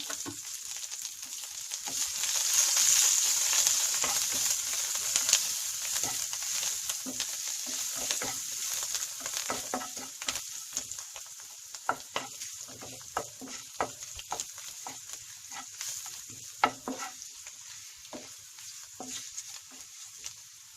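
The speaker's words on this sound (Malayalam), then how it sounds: "വെറുതെ ഒന്ന് മൊരിച്ച് നമുക്ക് കറിയിൽ ഇടുന്ന നേരത്തെ ഒരു ഭംഗി കിട്ടാൻ വേണ്ടി മാത്രം ഒരു 1/4 ടീസ്പൂണ് മുളക് പൊടിയും ചേർക്കുക" Chili powder sizzling in hot oil for a soya chunks masala curry, a steady bright frying hiss that runs throughout, with scattered stirring scrapes and small pops close by, and nobody speaking.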